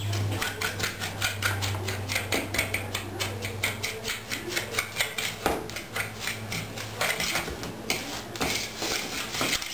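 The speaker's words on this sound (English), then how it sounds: "I'll just mix it together. Fork works nicely for this." A fork mixes meatloaf ingredients, ground meat with eggs and breadcrumbs, in a bowl, giving quick, rhythmic clinks and scrapes that continue steadily and close by, with no talking.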